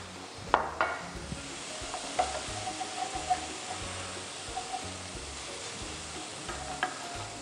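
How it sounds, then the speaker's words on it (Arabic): Chopped onion frying in oil in a pan, a steady soft sizzle with occasional light clinks and stirring sounds, with no voices. "تنخلو واحد شويه الزيت ديالو وتنديرو فيها البصله ديالنا"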